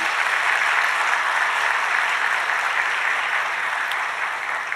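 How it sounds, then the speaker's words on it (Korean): A church congregation applauds during a Sunday worship service on New Year's Day, a steady, dense wash of clapping that holds evenly for several seconds with no voices over it. "그분들을 다시 한번 축복하면서 박수하시기 바랍니다"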